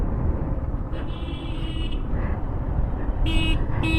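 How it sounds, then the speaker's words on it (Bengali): A motorbike horn honks in short bursts, two quick toots near the end over a steady roadway rumble, with a fainter tone earlier. "এত হর্ন বাজাস কেন তুই?"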